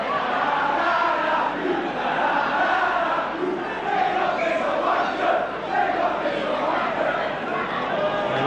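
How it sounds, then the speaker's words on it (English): A large rugby league crowd at a 1986 St Helens versus Australia match chants in unison, a dense steady roar of many voices rising and falling rhythmically throughout, with no single speaker standing out. "getting a bit of a workout now from the crowd there in unison chanting, Lindop is a wonder"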